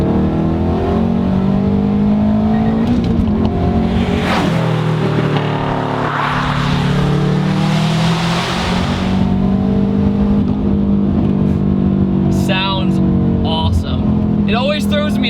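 A 2006 Subaru STI all-wheel-drive engine roars continuously nearby, its pitch rising and shifting as it accelerates through the gears past about 4,000 RPM, with a voice talking over it.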